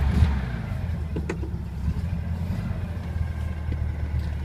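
A 1957 Volkswagen Beetle engine running cold and close to stalling, with a low, uneven rumble that stays steady and close, with a few faint knocks and no speech over it.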